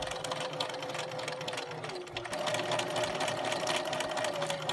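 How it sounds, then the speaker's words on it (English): A sewing machine stitches strip-pieced fabric for a Christmas tree ornament. It runs as a steady, close mechanical whir, with a brief shift in pitch partway through. "take one stitch across and then turn and continue sewing."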